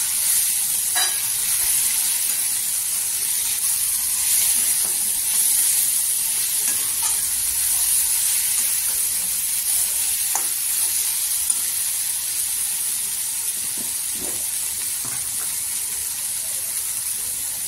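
Dried fish sautés in hot oil with a continuous hissing sizzle and occasional stirring scrapes, steady and close throughout with no voices.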